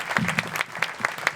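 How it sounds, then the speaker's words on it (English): Applause from a modest audience at a civic State of the City gathering, individual claps standing out in an uneven, fairly close patter, with a faint murmur of voices underneath. "So let's give them all a round of applause too."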